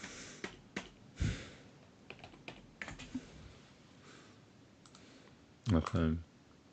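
Computer keyboard typing and clicking: scattered, irregular key taps at moderate distance, closing in a quick burst of louder clicks, with faint voices in the background.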